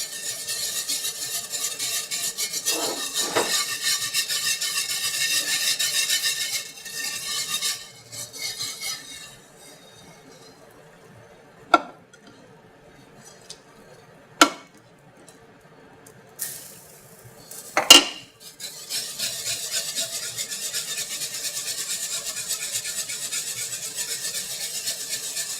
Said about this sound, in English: The reason you got to keep on whisking it because it gets really lumpy otherwise.